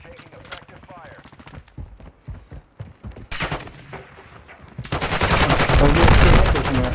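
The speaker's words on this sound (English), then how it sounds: "You are taking effective fire." Video game gunfire, scattered sharp shots and short bursts that build into a loud sustained barrage near the end, mixed with voices talking.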